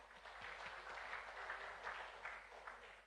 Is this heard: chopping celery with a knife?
no